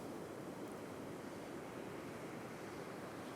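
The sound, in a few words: sea waves breaking on a beach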